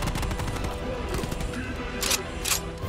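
An RPD machine gun fires in rapid bursts during a Call of Duty: Black Ops Cold War campaign mission, loud and close, with a couple of sharper cracks near the end.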